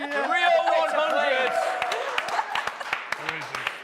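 Voices talk and sing at first, then scattered hand claps and light applause break out, uneven and fairly close.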